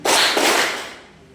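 A classroom of Indonesian vocational school students performs the 'tepuk siang' clap, two loud close group clap bursts in quick succession, then a fading reverberant tail, with no voices.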